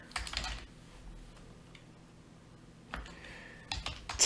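Someone types code on a computer keyboard in three separate spurts of rapid clicking, at the start, around the middle and at the end, with a quiet room hum between them.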